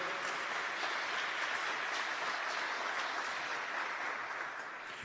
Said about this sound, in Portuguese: Pode aplaudir também, pode aplaudir.